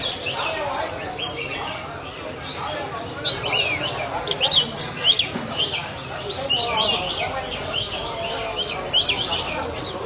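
Caged songbirds sing at a Vietnamese bird-singing competition, with bright, busy chirps and trills throughout, layered over continuous crowd chatter and someone speaking.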